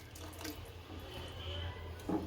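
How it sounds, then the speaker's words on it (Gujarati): A short, quiet splash and trickle of water being poured into a pot of sour urad dal curry with buttermilk, close by, ending with a small clunk. "થોડુંક અમથું પાણી નાખશું"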